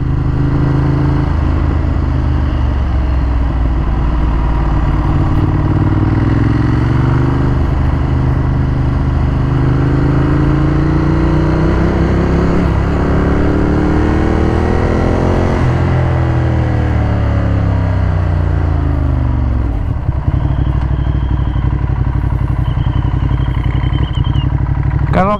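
A 2015 Ducati Monster 1200S with its L-twin engine drones steadily while riding, its loud engine note rising and falling through gear changes with continuous wind rush and no voices.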